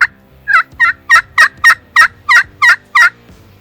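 A wild turkey gobbles in a rapid series of about nine loud, rattling calls, fairly close, with no talking.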